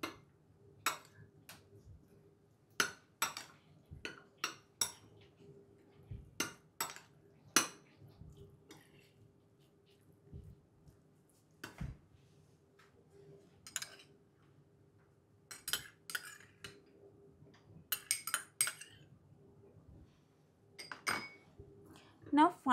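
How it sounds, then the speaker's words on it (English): A spoon mixing curd in a bowl for a healthy growth bowl meal, with sparse, faint clinks and taps against the bowl separated by quiet gaps, and a voice speaking softly at times. "Mix it up thoroughly."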